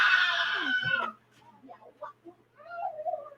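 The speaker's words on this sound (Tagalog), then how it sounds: "Ang bata sumisigaw." A child screams loudly and shrilly in the background for about a second, then quieter voices and indistinct talk continue indoors.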